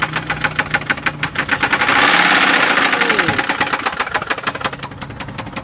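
A Subaru Baja with a blown engine revs up and settles back, with a rapid metallic knock hammering steadily through the rising and falling engine note, loud and close, and no talking.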